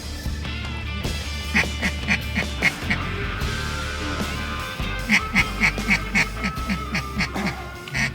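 Ducks quack during a duck hunt with widgeon and teal about: two rhythmic runs of about five loud, nasal quacks each, fairly close, over a steady low outdoor rumble.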